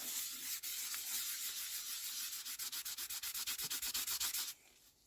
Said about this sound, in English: just get a tissue and clean up the snowflakes a bit. Do need to give them a little bit of a burnish.